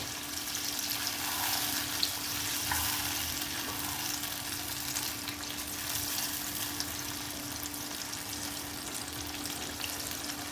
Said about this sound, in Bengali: ভালোভাবে কষিয়ে নেব, ভালোভাবে ঢেকে ঢেকে কষাতে হবে।